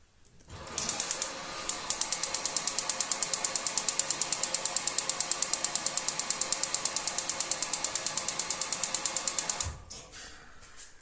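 The piezo igniter on an Aton gas water heater that won't light automatically clicks rapidly and steadily for about nine seconds. It makes a fast, even train of sharp, close ticks before stopping.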